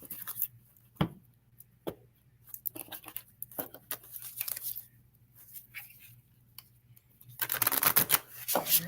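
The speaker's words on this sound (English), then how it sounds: "So a couple more shuffles here." Tarot cards shuffled by hand at a live holistic wellness session, heard as a run of crisp riffling bursts and soft slaps that build into a dense, rapid flutter near the end, close and alone with no talk.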